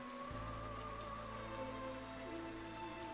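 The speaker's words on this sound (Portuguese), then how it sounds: "E tá chovendo de quando a gente parou" Steady rain pours down continuously, a dense even patter on surfaces with a low constant hum beneath it and no talking.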